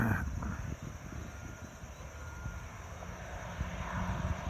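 A Cessna Citation business jet takes off in marginal weather, its engines a distant, steady roar that swells slightly toward the end.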